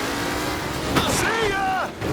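Race cars in a 1930s-style track race in Mafia Definitive Edition, engines droning steadily near the pack with a brief rising whine and tire squeal midway, under a voice speaking.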